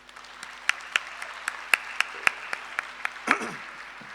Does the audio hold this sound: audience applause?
yes